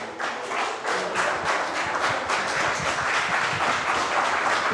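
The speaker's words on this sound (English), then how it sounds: "Big applause" Applause from spectators after an armwrestling match at an Armground event, a dense, fairly loud burst of clapping with some thumps and taps mixed in, sustained evenly throughout.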